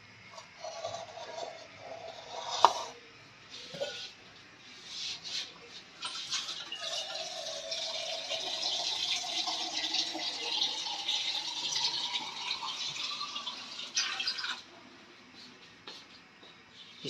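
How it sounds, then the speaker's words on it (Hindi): Water pours from a glass into a pot of mutton to make stock, a continuous splashing and trickling that grows fuller midway and then tapers off, with a few knocks against the pot and faint talk. "मैं इसके अंदर पानी डाल देती।"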